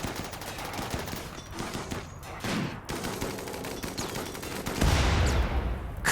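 Gunfire aimed at giant centipedes during a base defense in the colony game Rimworld, rapid overlapping shots and bursts crackling steadily throughout, swelling into a louder barrage near the end.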